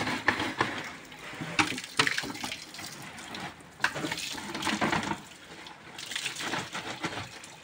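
Water runs from a tap into a container in a village setting, a steady close splashing and gurgling with faint background noise.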